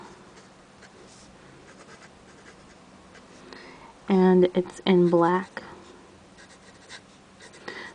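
A Platinum Carbon fountain pen scratches softly across large-size ARC notebook paper in faint, brief strokes, while a person speaks clearly over part of the writing.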